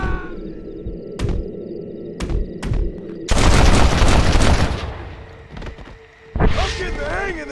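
Gunfire in the video game Red Dead Redemption: several sharp single shots, then a loud sustained fusillade of rapid overlapping rifle and gun blasts, fading and then flaring again near the end, with brief voices mixed in.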